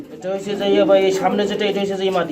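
Danish pigeons in a three-foot cage coo in soft, rolling calls, heard up close while someone talks over them.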